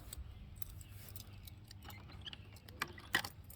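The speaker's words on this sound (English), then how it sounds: "Let me get this lock open." A ring of keys jangles near the end, including one for a Brinks lock, with a few sharp metallic clinks over quiet room noise and no talk.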